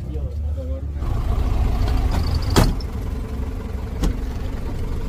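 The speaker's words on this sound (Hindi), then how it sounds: "तो ये है गाड़ियों का ट्रैफिक।" Traffic of modified cars near the Bromo mountain viewpoint in Indonesia, heard as a steady low engine rumble with a couple of brief clatters as vehicles move nearby, and people talking over it.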